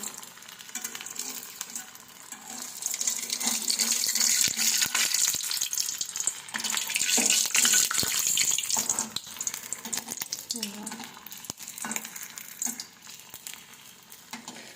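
A children's snack dropped into hot oil fries with a steady, bright crackling sizzle that swells in the middle and then eases, close and fairly loud, with faint scattered stirring clicks and no speech.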